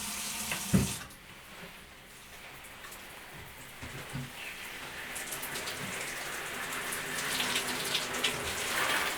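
Shower water runs in a steady broadband hiss with a sharp thump near the start and faint clatter throughout, close and fairly quiet, with no talk.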